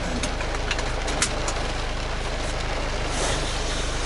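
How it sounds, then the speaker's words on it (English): A supercharged 2004 Mini Cooper S R53 idles with a steady, even engine hum and faint higher whine, a couple of small clicks and a slight lift in level near the end. "Now we'll start it up, clutch in. Extremely quiet, very nippy motor."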